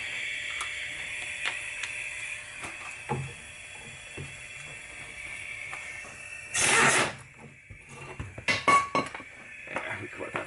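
Caliper bracket bolts on a front brake come off with a ratchet, bursts of quick clicking and metallic clinks between quieter moments, close up, with a person talking in the background.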